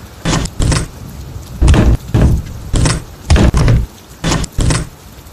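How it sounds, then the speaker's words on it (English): A door bangs shut repeatedly in quick, heavy pairs, about five rounds of loud close thuds like something hurling itself against it again and again, with no voices. "I slammed the door, holding it against the frightful thing which hurled itself again and again against it."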